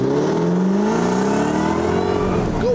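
A Jaguar racing car accelerates hard on a track, its close, loud engine note climbing steadily in pitch through the run with no talk over it.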